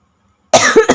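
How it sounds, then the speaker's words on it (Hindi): One person gives a single sharp, close cough after half a second of silence, followed by a short rough catch of breath. "सॉरी, बहुत खांसी हो रखी है।"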